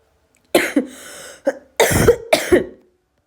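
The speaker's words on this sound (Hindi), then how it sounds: "खांसी आ रहा है, सॉरी।" Several harsh coughs in quick succession, close and loud, with brief pauses between bursts.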